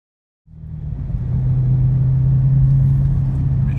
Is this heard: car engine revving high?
yes